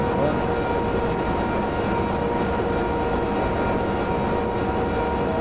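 A BB 22200 electric locomotive slowly gathers speed in the Open Rails train simulator, producing a steady, moderately loud mechanical hum and rumble with faint tonal whine lines running throughout.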